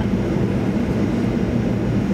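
An ANA airliner rolling on the runway just after landing at Oita Airport, heard from inside the cabin as a steady, loud broadband rumble and roar with no speech.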